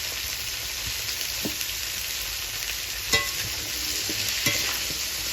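Broccoli sizzles steadily in a hot pan, broken by a few sharp clinks and scrapes of a utensil stirring it.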